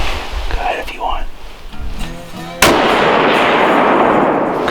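A rifle fires at a whitetail deer during a hunt, a single loud, sharp shot cutting in after quiet speech and followed by sustained roaring noise.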